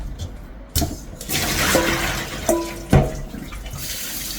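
Running tap water pours steadily into a kitchen sink as blanched broccoli is rinsed to cool it, a continuous splashing wash with a few louder knocks and clatters of the vegetables and strainer.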